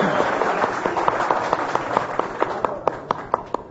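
An audience on a Turkish TV show applauds in tribute to the late singer. The clapping is steady and fairly close, and individual sharp claps stand out more clearly toward the end.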